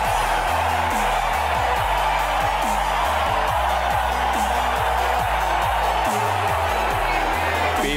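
Stadium crowd cheering in the mobile cricket game Real Cricket 2018 as the openers walk out, a steady loud roar of cheers and whoops laid over a looping synth music bed throughout.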